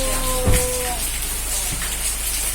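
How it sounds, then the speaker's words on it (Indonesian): Steady rain falls on a surface throughout, a dense even patter with a brief louder thump and a faint tonal hum early on. "Ya Allah, redakan hujannya ya."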